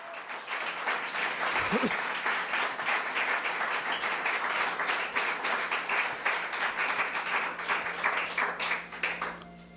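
A church congregation claps together after a Spanish-language sermon, dense steady applause filling the space for about ten seconds, fairly loud and close, with a brief vocal sound near the start.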